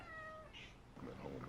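A house cat meows close by, with a voice speaking alongside the short call.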